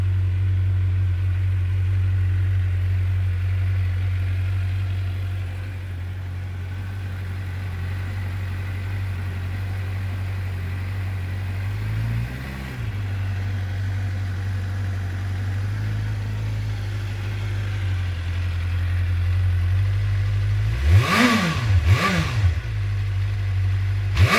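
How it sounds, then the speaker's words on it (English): A Suzuki GSX-R750 sport motorcycle engine idles steadily with a low exhaust rumble, then revs sharply twice near the end, loud and close. "natural warm up of the engine as it starts to build up"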